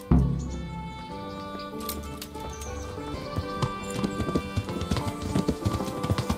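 A horse's hooves clip-clop steadily at a riding pace in a video game, a rhythmic clatter over ambient music and outdoor sound.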